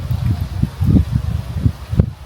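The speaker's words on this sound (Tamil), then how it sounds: "எவ்வளோ காற்று அடிக்குது?" Gusty wind blows during an April rock-bee honey hunt outdoors, heard as repeated low rumbling buffets against the microphone that rise and fall in uneven bursts.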